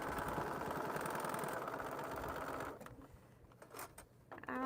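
A sewing machine stitches a quilt in a steady, close whirring run that stops partway, leaving quieter handling noises and small knocks afterward.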